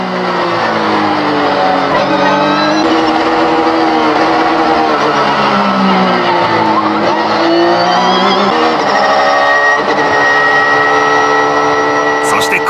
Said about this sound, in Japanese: 時速200キロでオーバーテイクを体験した後は240キロから一瞬で100キロ以下に減速。